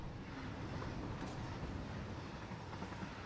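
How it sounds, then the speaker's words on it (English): A train in the game Satisfactory rumbles past underneath, a steady, dense low roar with a faint hiss on top, continuous throughout without talk. "I heard the train"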